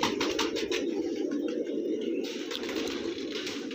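Flock of fancy coloured pigeons cooing steadily together, a dense continuous murmur of low calls with faint chirps above, close and fairly loud throughout.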